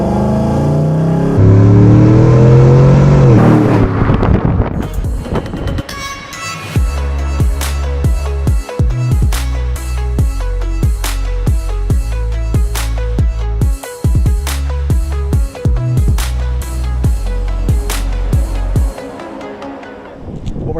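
Chevrolet Silverado engine fitted with a K&N cold air intake, revving hard through repeated loud throttle blips after a rising start, deep and close with sharp cut-offs between pulls.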